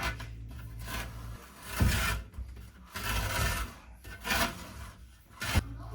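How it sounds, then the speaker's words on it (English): Old felt seal being scraped off a Samsung dryer drum with a sharp tool, a series of irregular close rasping strokes with short pauses between them. "just get something sharp to cut it in half, and then you can scrape the rest off"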